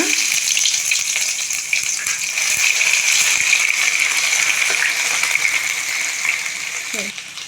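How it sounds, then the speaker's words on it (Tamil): Ginger and garlic hit hot oil already holding green chillies, bay leaf, cardamom and clove for an egg masala gravy, producing a loud, continuous close sizzle with light rattling throughout. "இப்போது இதில் இஞ்சி பூண்டு ஆட் பண்ணிக்கோங்க"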